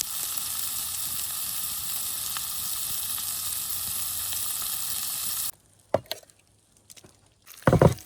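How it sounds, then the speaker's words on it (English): Sausage and potatoes cook over a campfire, frying with a steady, close sizzle that cuts off abruptly, leaving quiet with a few brief knocks and handling noises afterward. "I cut up the sausage and put the sausage in there with the potatoes while they continue to cook"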